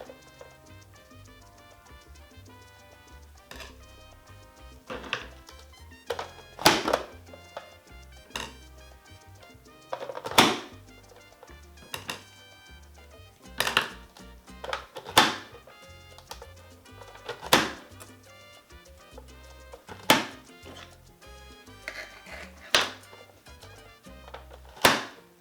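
A handheld chopper dices tomatoes with a series of sharp, irregular clacks and thunks, some louder strokes standing out over a quiet background, close by and without talk.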